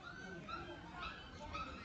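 A black German shepherd puppy gives faint, high whimpers and short yips at a kennel, quiet and intermittent beneath people talking nearby.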